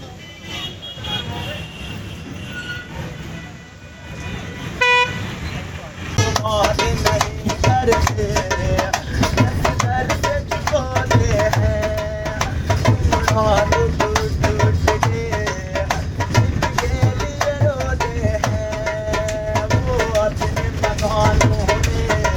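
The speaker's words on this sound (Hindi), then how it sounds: "अपनी गाड़ी अब दिल्ली के लिए चल चुकी है मेरठ बस अड्डे से।" A bus pulling out of the Meerut bus stand toward Delhi, engine rumble and road noise steadily filling the space, with horns honking repeatedly in the surrounding traffic and people talking aboard.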